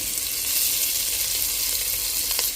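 Hotdog frying in a pan gives a steady, dense sizzle with fine crackling, even and unbroken, close and fairly loud with no talking.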